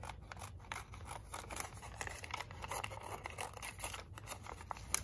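Quiet, steady snipping and crisp rustling of scissors cutting paper, repeated small cuts close by with no talking.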